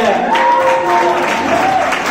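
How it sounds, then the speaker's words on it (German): Audience applause for the year's award winners at a German class awards ceremony, steady clapping and crowd noise held throughout with tonal sounds like music or voices above it. "Und alle Sieger und Applaus für die Sieger im Jahr, Leute"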